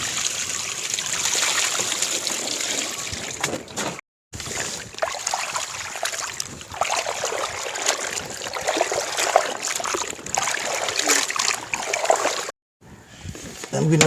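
Tapioca pieces swished and rinsed by hand in a vessel of water, a steady close sloshing and trickling that runs almost continuously, broken by two short silent gaps, with no talk.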